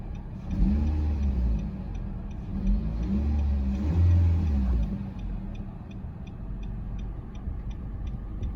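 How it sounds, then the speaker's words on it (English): A 2017 Nissan Rogue SV with a 2.5-liter four-cylinder engine idles, then revs up twice in swelling bursts before settling back, with a steady faint ticking throughout. "let's go ahead and rev up the engine to see how it sounds"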